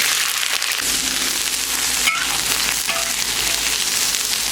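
Small dried local fish with chopped chili sizzle and scrape loudly in a hot wok as they are stir-fried for a Hunan dish, a dense continuous frying hiss with occasional utensil clinks.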